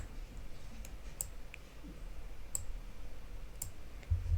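Computer mouse clicks while working in an Excel spreadsheet, a handful of sharp, faint, widely spaced clicks over low background hiss.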